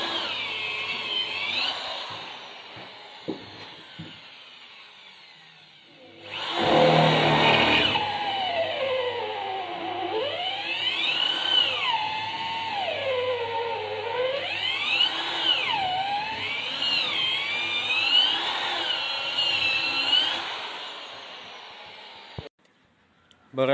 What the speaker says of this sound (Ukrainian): Спочатку один отвір сверлим, а потім другий.